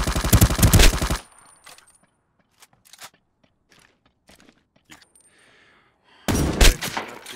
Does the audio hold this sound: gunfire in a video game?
yes